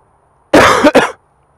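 A person ill with COVID gives a single close, sharp cough that breaks into two quick bursts like a throat clearing, set against near silence.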